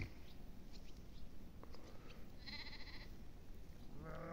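A sheep bleats briefly in a shepherd's flock out in hot, open fields, a short wavering call at moderate distance over a low outdoor background, with a second bleat starting at the end.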